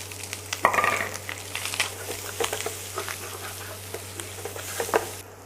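Onions and garlic fry in a stainless steel pan with a steady low sizzle, broken by scattered stirring scrapes and clicks, and a louder burst where the ingredients hit the pan near the start.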